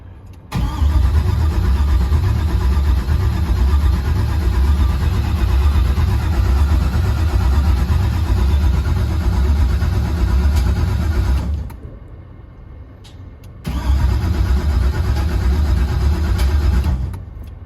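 LS-swapped Chevrolet C10 engine cranking without firing, its fuel pump unplugged, a loud, steady starter churn that runs about eleven seconds, stops briefly, then resumes.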